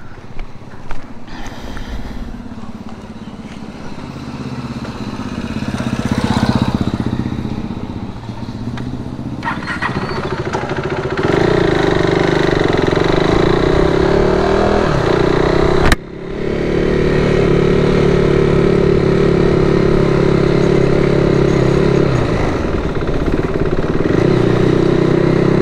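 A KTM motorcycle with a recently drained battery cranks over and fires, its hot engine settling into a steady, loud, close-up idle, with a short break midway before it resumes running evenly.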